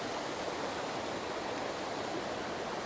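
A waterfall pours over rocks in a steady, unbroken broadband rush of water, soft and fairly distant, with no voices.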